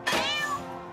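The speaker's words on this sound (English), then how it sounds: "Zombie kitty." A zombie cat in the South Park: The Stick of Truth video game lets out a single drawn-out, wavering meow, loud and close, that tails off quickly.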